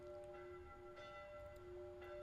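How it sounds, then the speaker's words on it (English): Church bells from chapel belfries ring softly from a distance in the visual novel Tsukihime, a steady sustained chime with repeated gentle strikes over faint background hiss, with no voices. "The ringing of bells falling softly from the sky. I've heard this sound before, from chapel belfries."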